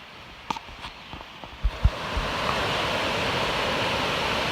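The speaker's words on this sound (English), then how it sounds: "lots of water moving through here" A fast-moving river carrying lots of water along a hiking trail, a loud steady rushing roar that swells in and holds, preceded by a few brief knocks and thumps.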